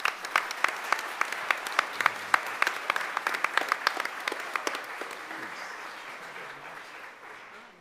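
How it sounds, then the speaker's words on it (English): An audience at a school district board meeting gives a round of applause. Sharp claps start out distinct and rhythmic, then thin and fade toward the end. "So, one more huge round of applause."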